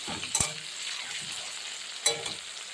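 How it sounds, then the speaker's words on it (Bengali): Green tomatoes with potato and eggplant frying in a pan, a steady soft sizzle with two sharp scraping stirs of a spatula, close and moderately quiet. "নরম না হওয়া পর্যন্ত ঢাকনা খুলে কয়েকবার এইভাবে নাড়াচাড়া করবেন"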